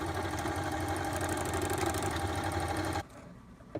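A sewing machine runs steadily for about three seconds while stitching the side seam of a pair of pants, its motor a close, even whir that stops abruptly near the end.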